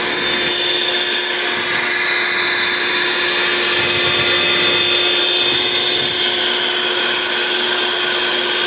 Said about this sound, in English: I find it very easy to use one of these style blenders